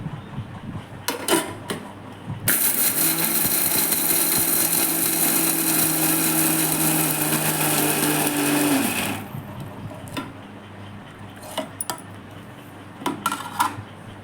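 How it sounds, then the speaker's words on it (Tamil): A kitchen mixer grinder whirs loudly and steadily as it grinds coconut and cumin, running for about seven seconds before cutting off, with faint clatter of the jar before and after. "நல்லா அரைச்சிக்கோங்க பூவாக அரைச்சிக்கோங்க"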